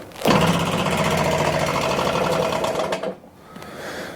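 A Stihl BR600 leaf blower with a bad cylinder is revved to full throttle, giving a loud, rough, buzzing engine roar that holds for about three seconds, then drops and partly recovers.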